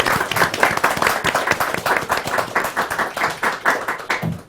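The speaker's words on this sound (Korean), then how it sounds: "박수 한번 주세요." A studio audience at the final taping of a Korean talk show bursts into dense, lively applause, many hands clapping close and loud before it tapers off at the end.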